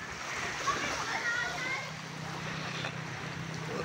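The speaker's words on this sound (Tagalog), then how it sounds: "Yun, lumalangoy si Pix." Children swim and splash in shallow sea water, the splashing close and continuous, mixed with kids' voices and steady wind and water noise throughout.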